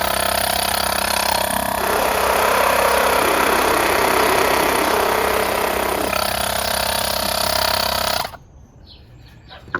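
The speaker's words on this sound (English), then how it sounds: "It turns on the tire inflator." UIBI 12V jump starter's built-in tire inflator air compressor running with a loud, steady, buzzing motor drone close by, then cutting off abruptly near the end, leaving near silence.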